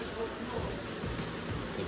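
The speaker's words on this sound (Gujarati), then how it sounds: "અત્યારે તો વરસાદ ચાલુ છે" Steady rain falls with a soft, even hiss, moderately close and continuous throughout, with no other distinct sounds.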